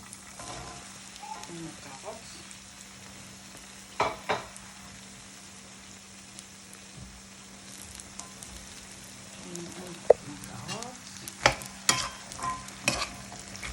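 Onion and carrot fry in a pan with a quiet, continuous sizzle. Occasional louder clicks and scrapes come from stirring, heard close up.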